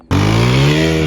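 A motorcycle engine with a broken carburettor bursts into a loud, rough, buzzing drone, close by and steady for about a second, with no talking.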